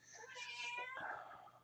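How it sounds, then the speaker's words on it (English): An old cat, 20 years old, meows in one drawn-out, wavering cry indoors, close and moderately loud, with a person's voice faintly present beneath it. "that's my cat meowing in the background."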